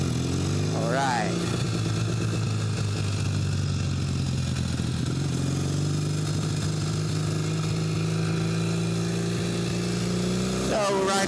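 A Norton motorcycle is ridden on a test run, its engine holding a steady, loud, close drone for the whole stretch, with a brief rise in revs at the start and again at the end.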